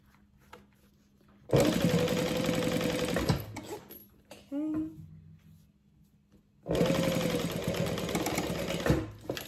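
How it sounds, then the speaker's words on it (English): A sewing machine top stitches fabric in two long bursts with a short whirring pause between, close and steady, with faint voice-like sounds in the gaps. "I'm gonna start at the very edge this time of my fabric and just top stitch down"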